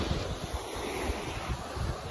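Strong wind roars steadily across the Sumilon Island sandbar, with surf washing underneath in a dense, continuous rush and no voices.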